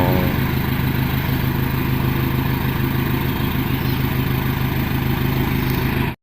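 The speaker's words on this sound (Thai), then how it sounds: "ตอนนี้เอารถทรายเข้ามาแล้ว" A sand delivery truck pulls in at a tiling job, its engine a loud, close, steady rumbling drone that cuts off abruptly at the end.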